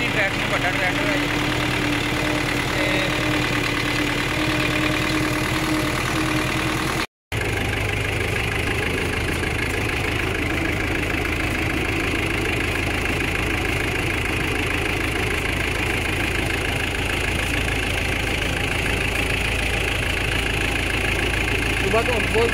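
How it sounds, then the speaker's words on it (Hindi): A large tractor engine idles steadily and loudly up close, a continuous low rumble that runs almost without break through the whole stretch, with someone talking over it. "ट्रैक्टर बड़ा ट्रैक्टर है"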